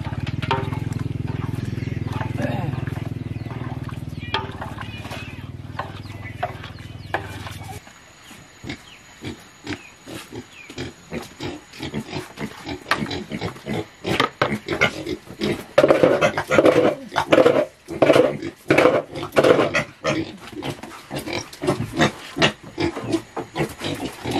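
Pigs eating bran mixed with hot water, loud wet rhythmic chomping, slurping and grunts right up close after a few seconds of steady background hiss.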